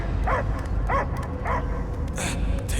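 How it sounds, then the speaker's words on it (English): Dog barking in the Guardians of the Galaxy video game, three sharp barks spaced about half a second apart followed by whimpering yips, heard close over a steady low rumble of game ambience. "I hear only barking."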